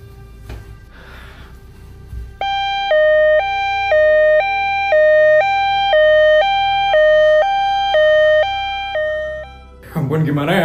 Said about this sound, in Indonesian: Cepat masuk ke dalam ambulans.